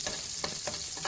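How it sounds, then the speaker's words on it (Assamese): Sliced onion, a bay leaf and whole cumin seeds fry in oil in a pan, a soft steady sizzle broken by a few scraping stirs, close and quiet with no talking. "মই তেলতে এটা তেজপাত দিছোঁ, কেইটামান গোটা জিৰা আৰু লগতে কাটি লোৱা পিঁয়াজখিনি দিছোঁ। এইখিনি ৰঙা হোৱালৈকে ভাজি ল'ম।"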